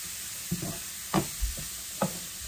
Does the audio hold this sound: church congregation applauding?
no